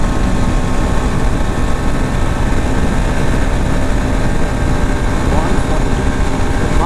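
Yezdi Adventure BS6 motorcycle engine held at high revs in fifth gear during a top-speed run, a steady loud drone with heavy wind rush that never lets up.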